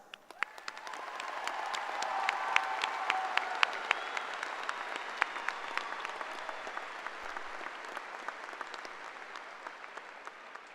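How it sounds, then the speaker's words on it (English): A high school graduation audience gives a sustained round of applause for the class of 2024, dense clapping swelling in the first seconds and then gradually thinning and fading, heard from a distance in a large hall. "they deserve our applause"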